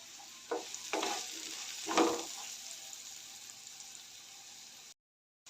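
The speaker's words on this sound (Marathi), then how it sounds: "अर्धा चमचा हळद घालून सर्व व्यवस्थित मिक्स करून घेऊया" Ridge gourd stir-fried with turmeric in a frying pan: a few close spoon scrapes and stirs over a soft, continuous sizzle, tapering off before a brief silence.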